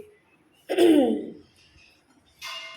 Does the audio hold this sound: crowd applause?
no